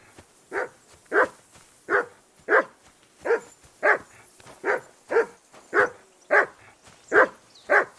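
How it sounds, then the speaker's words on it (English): A dog in the video game Kingdom Come Deliverance 2 barks steadily, about a dozen evenly spaced barks at a regular rhythm, fairly close and clear against a quiet background. "Whistle at that mutt of yours to stop barking."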